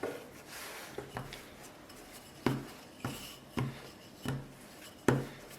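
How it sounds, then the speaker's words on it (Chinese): A rolling pin works thin spring pancake dough on a board, giving a soft continuous rubbing with a series of distinct wooden knocks roughly every half second to second as it is turned and pressed, close and fairly quiet. "擀到一半的时候翻面，再擀另一面，同样上下转动，左右擀。"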